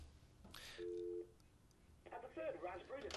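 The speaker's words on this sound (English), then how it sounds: "let's make a call" On an office phone system, a brief steady line tone sounds while an outgoing call is placed, then a voice speaks quietly over a faint background hum.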